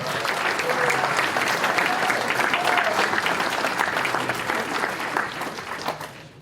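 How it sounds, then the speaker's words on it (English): A large audience at a hall of fame induction ceremony breaks into sustained, dense applause for an inductee, steady and even for several seconds before fading at the end. "Let's give her a big round of applause."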